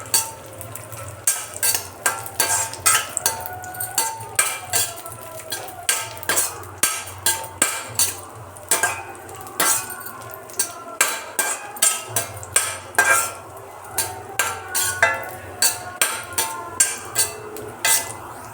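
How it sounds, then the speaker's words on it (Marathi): Yellow raisins roasting in ghee in a pan are stirred with a metal spoon, giving a steady run of loud scraping and clinking strokes over a soft frying hiss. "याच्यात आता आपण पिवळे आपले मनुके भाजून घेणार आहोत. मनुके छान फुगेपर्यंत भाजायचे."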